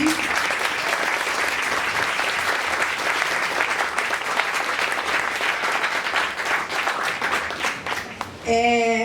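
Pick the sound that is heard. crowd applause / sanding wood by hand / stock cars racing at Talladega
crowd applause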